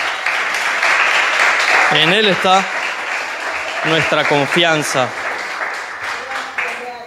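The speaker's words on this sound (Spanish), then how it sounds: "Dale un aplauso al Señor." A church congregation applauds at a Thursday evening worship meeting, steady clapping running throughout while someone speaks over it in bursts.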